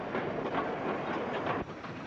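A train running on rails gives a steady, loud rumble with a rolling clatter throughout and a brief dip near the end, no voices over it.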